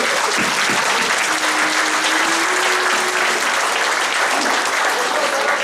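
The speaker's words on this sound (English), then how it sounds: "Can we have a round of applause for all the volunteers at Simonds that make this program happen?" Steady, loud applause from an audience at a school beginning orchestra and band event, honouring the volunteers behind the music program, with dense clapping sustained throughout and no voices on top.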